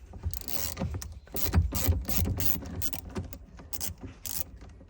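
A ratchet clicks rapidly and closely while loosening a battery terminal on a BMW F30, in uneven bursts of crisp metallic ratcheting.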